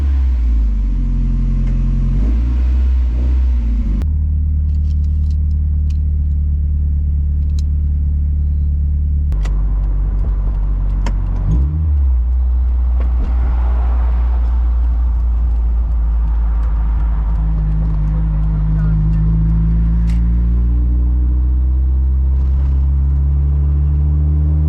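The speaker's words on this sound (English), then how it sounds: "I'm gonna back this car out, and then I will shut the garage door behind me," A 1997 Mazda MX-5 Miata idles with a steady low rumble as it backs slowly out of a garage, with brief engine changes and light revving at close range, and no talking.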